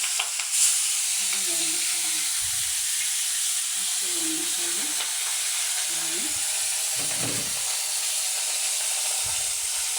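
Food sizzles steadily in a hot pan during home cooking of a mustard dish, with a constant frying hiss and intermittent spatula scraping and stirring, while voices talk softly now and then.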